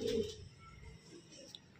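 Pigeons, a black chinni female among Malwai Punjabi pairs, give a low cooing burst at the start, then softer murmurs that fade under faint background noise.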